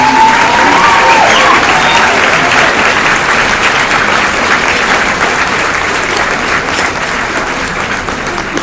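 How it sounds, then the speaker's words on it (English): An audience at an annual meeting and holiday luncheon bursts into sustained applause, a dense wash of many hands clapping that starts strong and slowly tapers, with faint voices mixed in. "while you're applauding him and recognizing him"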